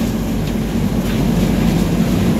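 Indian express train 12863 pulls out of Vijayawada station, a loud steady low rumble with rolling hum and no talk.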